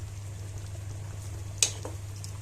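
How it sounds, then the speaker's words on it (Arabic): Orzo pasta boils in a pot of water, a steady low bubbling rumble with a faint continuous hiss and one small sharp tick midway, close and quiet with no talk. "لسان العصفور دلوقتي بيغلى معانا"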